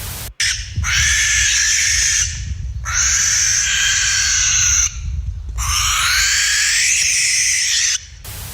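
Three long, harsh rasping barn owl screeches, each lasting one to two seconds and separated by brief pauses, loud and close with a low rumble underneath.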